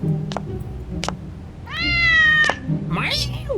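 A cat meows several times in a video game, drawn-out and whiny, close by, with a voice talking briefly in between.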